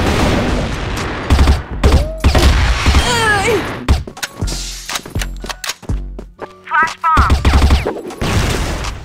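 Grenade thrown and detonating amid rapid gunfire in a shooter video game, loud dense bursts of shots and blasts with in-game chatter and speech over the action.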